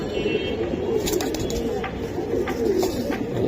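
Giribaz pigeons cooing, soft rolling coos repeated in a crowded pigeon market under steady background noise and murmured voices, fairly close.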